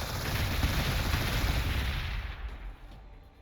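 An Onager Dunecrawler fires in Warhammer 40,000: Gladius, a dense burst of rapid gunfire and booming impacts rolling on steadily before tapering off and fading out.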